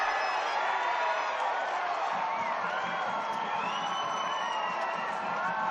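A football crowd at a Brisbane City versus Western Sydney Wanderers Australia Cup match roaring after a strike on goal: a broad, sustained cheer with scattered whoops and shouts, heard from a distance under faint commentary.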